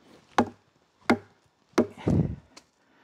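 A Cold Steel SRK knife chops into tree wood: four sharp, close thwacks spaced about two-thirds of a second apart, the third followed by a brief rustling scrape, with no speech.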